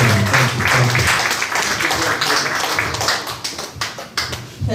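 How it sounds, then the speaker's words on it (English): An audience applauds Paul Dawkins, dense clapping that starts strong, then thins and grows choppier toward the end, with no speech. "please give Mr. Paul Dawkins a round of applause"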